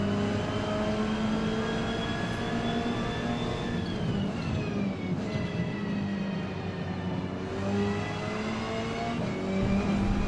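Race car engines during a multiplayer Forza Motorsport race, a dense loud whine of several cars with pitch climbing and dropping through gear changes, continuous for the whole stretch with no talk.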